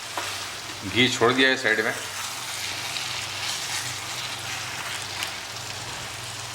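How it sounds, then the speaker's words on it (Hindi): Chicken pieces and chicken mince sizzling steadily in ghee for Punjabi chicken rara, a continuous crackling fry with someone briefly speaking over it early on. "हमारा जो चिकन है और कीमा है चिकन का, ये बढ़िया भुना गया है"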